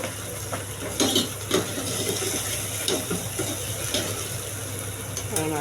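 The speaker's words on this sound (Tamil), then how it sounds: "தேவையான உப்பு போட்டு வதங்கிட்டு நல்லா வதக்கிட்டு" Onion and tomato sauté with rock salt in a pan for a village-style sundakkai kuzhambu, a steady close sizzle with scattered clinks and scrapes of a stirring utensil throughout.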